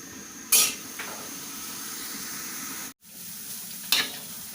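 Steady sizzling of pork in a hot pot with a few scraping, clanking stirs of a utensil against the metal, fairly close.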